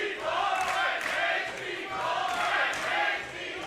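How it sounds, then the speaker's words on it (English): Wrestling crowd at a Smash Wrestling match between Mike Bailey and Brian Cage, roaring and cheering steadily in swelling waves throughout, a dense, reverberant arena wash. "And this crowd is firmly into this matchup."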